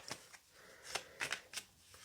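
Tarot cards are shuffled in quick, soft riffling bursts, a string of papery flicks and slaps at irregular intervals, faint and close.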